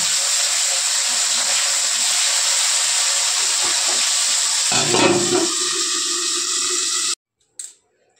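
Ar fish tail pieces sizzle in hot oil in a kadai with a steady, loud hiss that briefly swells, then cuts out abruptly, followed by a short clatter.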